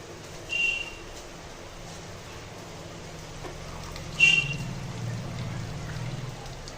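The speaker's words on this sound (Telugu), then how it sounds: "రైస్ అంతా ఇట్లా వేసుకోవాలండి." Soaked, drained rice is poured into a pot for chicken biryani in two short, soft rushing bursts a few seconds apart, close by over a quiet kitchen background.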